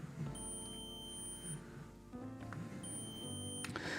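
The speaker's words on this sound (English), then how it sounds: "It'll beep when it finds a stud." A stud finder sweeping a closet wall gives two thin, high electronic beeps, each lasting over a second with a gap between them. Faint tonal hum and scraping sit underneath.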